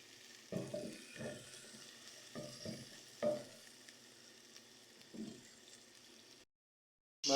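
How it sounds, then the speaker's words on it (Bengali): Meat and vegetables for haleem frying in a pot, stirred in a few scraping bursts over a soft sizzle before the sound cuts off abruptly. "মাংসগুলো হালকা কষিয়ে নিয়ে আমি সবজিগুলো দিয়ে দিছি।"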